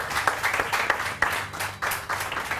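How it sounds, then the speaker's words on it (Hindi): An audience claps enthusiastically for Ali at a fundraising gathering. The applause is loud and close, with crisp individual claps standing out in a rolling, uneven burst that surges and dips several times. "अली के लिए बेतहाशा तालियां।"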